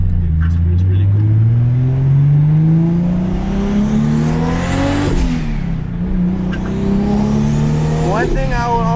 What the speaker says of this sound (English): What blow-off valve is that? That's a tail blow-off valve.